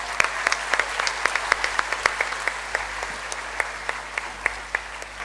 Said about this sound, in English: I think they need a big round of applause